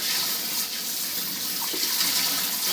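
Tap water runs steadily as an Oster Pro 1200 blender jar is rinsed out at a sink after making almond milk, producing a continuous close splashing hiss with no talking.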